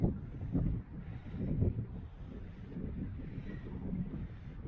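Wind buffets the microphone on a breezy coastal hilltop on the Isle of Portland, a continuous low rumbling gust that swells and eases without pause and dominates the scene.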